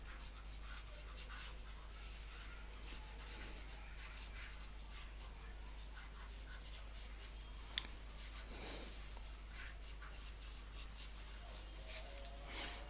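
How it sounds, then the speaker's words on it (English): Marker or chalk being rubbed off a classroom board, a steady close scrubbing rasp lasting the whole stretch with a low constant hum beneath and no talking. "So let me try erase all this"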